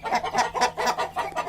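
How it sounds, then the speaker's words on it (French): A silky hen on a farm clucks in a quick run of about six soft, evenly spaced calls, close and clear with no one talking. "voici une poule soie silky"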